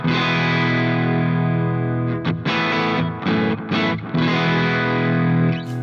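Electric guitar played through Two Notes Genome effects and amp simulation, a heavily distorted, sustained tone with chorus-like shimmer, held chords broken by a few quick muted gaps, loud and close with no talking.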